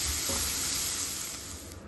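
Onions sautéing in a pan give a loud, close, continuous sizzle, with a brief stirring scrape near the start and no voices.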